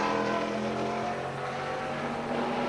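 GTO and GTU race cars at Watkins Glen in archive footage, engines droning loud and steady with layered harmonic whine as several cars run together, no talk over it.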